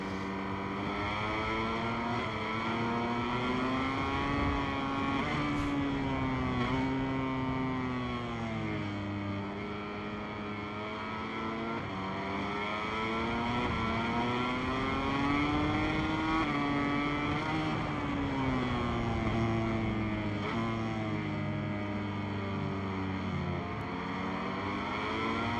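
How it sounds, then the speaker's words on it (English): Simulated racing motorcycle from MotoGP 23 holding a little throttle with the rear brake clamped, giving a steady loud engine drone with wavering pitch that rises and falls continuously, alone without talk. "So you've got a little bit of throttle in, you've got the rear brake clamped then"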